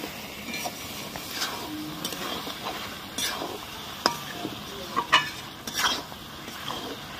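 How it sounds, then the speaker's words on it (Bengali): Chicken, tomato and onion being stir-fried, a quiet sizzle under intermittent scraping and clinks of a utensil against the pan, a few sharper knocks in the second half. "এটা ভালোভাবে কষবো যাতে টমেটো পেঁয়াজ সব কিছু সেদ্ধ হয়ে যায় ভালোভাবে।"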